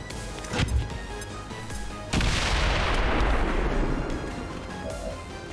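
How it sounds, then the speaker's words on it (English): A tree blown apart in XCOM 2: War of the Chosen: a heavy boom bursts out and rolls into a long, loud crashing rumble that slowly fades, with a smaller thud a moment before. "Go ahead and blow up the tree."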